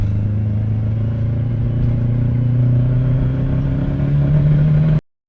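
A damaged Mazda RX-7 FD rotary engine, overheating and losing compression, runs at a steady, rough idle with a low droning hum for several seconds, then cuts off abruptly.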